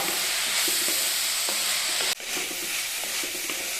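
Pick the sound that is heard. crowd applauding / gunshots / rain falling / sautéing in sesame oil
sautéing in sesame oil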